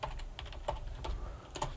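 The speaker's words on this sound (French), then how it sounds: "Ah, c'est pas mon clavier habituel." Fingers tap out quick, irregular keystrokes on an unfamiliar computer keyboard, faint and close, with no talking over them.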